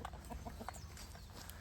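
Chickens cluck softly around a garden food forest with a rooster among them, short repeated calls at close range over a steady outdoor background.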